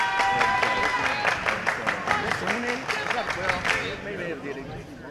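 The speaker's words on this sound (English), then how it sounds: "You can hear the clapping" Rhythmic clapping from the Leander bench at a girls' high school basketball game against Cedar Park, steady and moderately close over crowd noise and an announcer's voice, fading out near the end.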